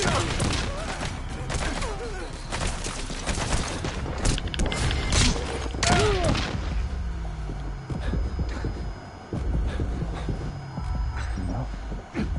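Enemy machine gun fire in the Metal Gear Solid 5 video game: sustained rapid bursts of shots over a dense, rumbling battle din, with a brief voice partway through.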